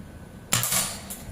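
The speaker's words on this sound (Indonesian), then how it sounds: "Tembakan pertama" A single air rifle shot from a Predator Monel Ataman folding rifle with a 30 cm Yumaja barrel, a sharp close crack followed by a short ringing tail and a faint second tick as the pellet hits the target.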